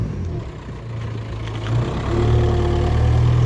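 BMW E30 fitted with a swapped M52 engine, running steadily with a low rumble that swells slightly in level partway through, close by with no talk.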